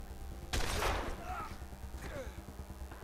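Gunfire in a shooter video game: one loud burst of shots about half a second in, then a few lighter cracks and pops over a low background of game noise.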